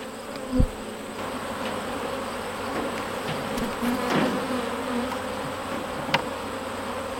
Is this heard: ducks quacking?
no